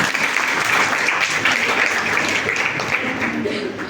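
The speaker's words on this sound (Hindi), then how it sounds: "वो पंक्तियों में मैं जो कहने वाला था आपने पहले ताली बजा दी" An indoor audience claps steadily through the whole stretch, dense and loud, at an event opening with a recited verse.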